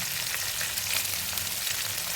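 Onions frying in oil in a pan for a Bengali fish-head muri ghonto, a steady close hiss and crackle of sizzling with no pauses, moderately loud and alone.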